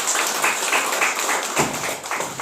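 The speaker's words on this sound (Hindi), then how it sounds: "उनके लिए जोरदार तालियां होना चाहिए" An audience at a live network marketing talk applauds, a brief dense wash of many hands clapping at steady volume for a couple of seconds.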